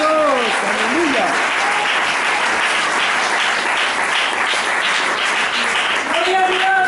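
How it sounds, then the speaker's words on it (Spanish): Sustained applause from a church congregation at an anniversary service, dense and steady throughout, with a few brief raised voices and exclamations near the start and end. "Démosle palmas al Señor."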